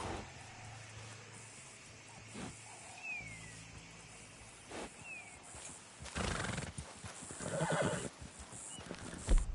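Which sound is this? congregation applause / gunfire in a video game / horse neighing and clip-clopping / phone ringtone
horse neighing and clip-clopping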